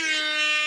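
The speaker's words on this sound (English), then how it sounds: "Why is my air horn not working?" A single sustained air horn blast, loud and steady with a strong harmonic tone, sounding alone for under a second.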